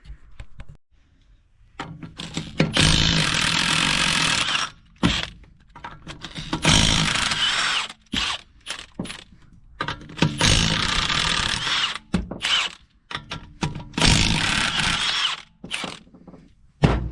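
Tools work to get a car wheel off during a crankshaft pulley repair: bursts of loud mechanical whirring and ratcheting, several seconds each, separated by short pauses and clanks, close by.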